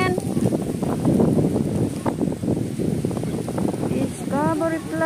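Cold wind gusting outdoors near Discovery Plaza in Discovery Bay, Hong Kong, a steady broadband buffeting roar that fills the whole clip, with voices faintly audible underneath.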